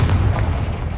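Confringo fire spell blasting in Hogwarts Legacy, a booming, explosive burst with a heavy low-end rumble that fills the whole second at close range.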